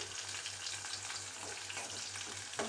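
Onions fry in a pan with a soft, steady sizzle and faint stirring, heard quietly over a low humming drone for a short stretch.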